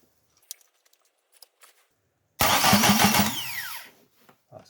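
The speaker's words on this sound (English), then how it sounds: "pinion wheel is jumping out onto the flywheel, spinning and then jumping back again" Starter motor on a Ford Escort Zetec engine spinning the flywheel via its pinion, a sudden loud whirring burst of about a second and a half that winds down, after quiet clicks and handling noises.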